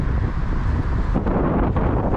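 Wind gusts roar against the microphone during rain in the city of Cork, Ireland, a loud, continuous low buffeting with brief shifts in intensity and no speech.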